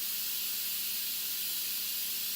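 Steady, loud hiss of steam venting from a pressure cooker's release valve while the lid stays locked under pressure, continuous and unbroken with no talk.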